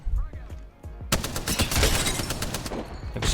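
Gunfire in the Apex Legends battle royale, a sparse few sharp shots that give way to dense rapid bursts crackling close and loud.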